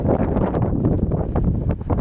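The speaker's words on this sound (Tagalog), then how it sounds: "sobrang lakas ng hangin" Strong wind after a snowstorm in Canada buffets the microphone in loud, continuous gusts, a dense low roar with no clear voices.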